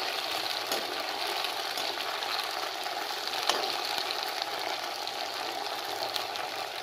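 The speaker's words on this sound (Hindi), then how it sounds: "जब भिंडी फ्राई हो जाएगी तो मैं भिंडी को निकाल लूँगी और फिर मसाले इसी कढ़ाई में बनाऊँगी" Okra frying in hot oil in a wok, a steady, moderately quiet hiss and crackle of sizzling that carries on evenly throughout with no voices.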